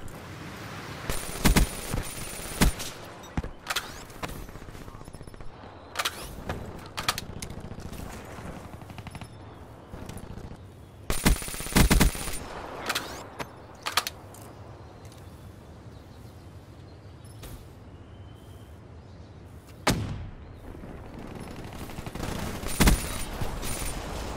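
Rapid bursts of video game gunfire crack out repeatedly at close range, sharp shots clustered in quick volleys with brief gaps between them, over a low background rumble.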